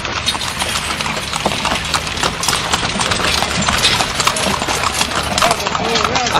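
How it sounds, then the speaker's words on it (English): Horse hooves clip-clop steadily on pavement as a carriage is pulled along, a busy rhythm of hoof strikes heard nearby amid traffic and an engine hum, with voices talking over it. "No, that's just an old horse. It's just gray."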